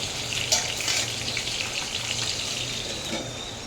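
Stuffed capsicum frying in oil in a covered pan, giving a steady, even sizzle with scattered small pops and spits throughout.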